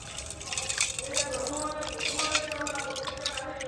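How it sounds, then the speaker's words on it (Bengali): Old gold and silver jewellery is rinsed piece by piece in a bowl of clean water, giving continuous light splashing, dripping and trickling close by, with a soft hum in the background. "এখানে একদম পরিষ্কার জল নিয়েছি এবারে একে একে সব দিয়ে দেব এবারে এইভাবে ভালো করে একটু ধুয়ে নেবো"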